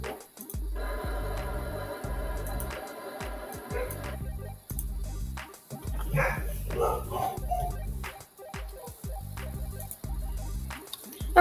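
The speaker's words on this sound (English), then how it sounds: "my dog will be barking probably for the rest of the video" A pet dog barks in a few short bursts in the middle, mixed under looping electronic game music that plays throughout.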